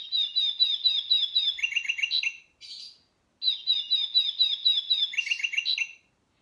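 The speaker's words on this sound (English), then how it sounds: "Peep makes a lovely song like this" A little brown bird sings two bright, rapid phrases of high chirps and trills, separated by a short pause, clear and close with no talk.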